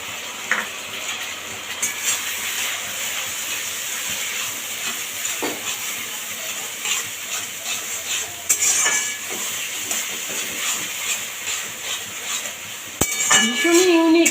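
Spice paste of green and red chillies, tomato, ginger and turmeric stirred into onions frying in a pan for hilsa do-pyaza, with a steady sizzle, scraping and clinks of a utensil, louder near the end.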